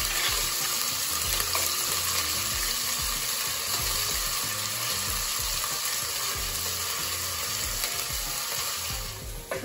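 Ginger garlic paste fries in a pan for chicken kofta, producing a loud, dense and continuous sizzle close by that holds steady the whole way through, with no talking.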